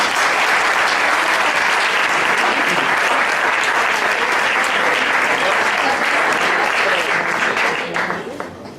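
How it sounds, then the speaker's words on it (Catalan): A crowd at a falla presidential proclamation gives strong, loud, dense applause that holds steady for several seconds, with voices mixed in, then begins to thin out at the end. "us demane un fort aplaudiment"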